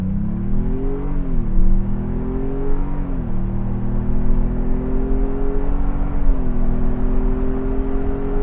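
2024 Ford Bronco Everglades with a 2.3 liter engine accelerating hard through several gear changes, its rising engine note dropping at each shift, loud and steady from inside the cabin with no talk.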